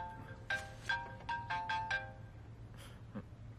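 A phone ringtone sounds in a quick series of melodic beeps, close and clear, over a low background hum.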